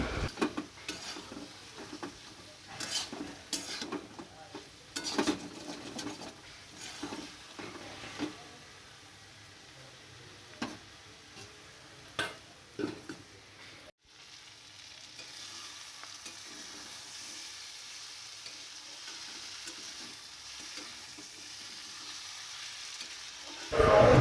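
A small fish and vegetable curry being stirred and fried in a pan in a village kitchen, with faint sizzling under intermittent scraping and clinking of a utensil against the pan, then a steadier low sizzle.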